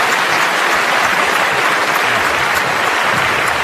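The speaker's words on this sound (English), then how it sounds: "Golf applause there." A burst of golf-style applause during a sports talk show, a continuous dense patter of many hands clapping at an even level throughout, with no talking.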